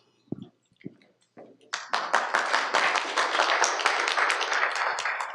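Audience applause at a monthly Oregon City Business Alliance forum, starting after a few isolated claps and swelling into steady, dense clapping from a sizable room that continues to the end.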